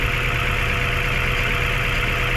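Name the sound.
Mazda 3 engine idling with strong vibration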